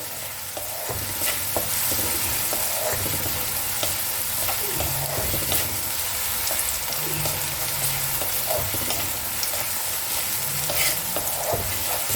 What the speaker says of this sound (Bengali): খুব লাল লাল করে বেরেস্তার মতো করে ভাজবো না, একটু নরম নরম ভাজবো।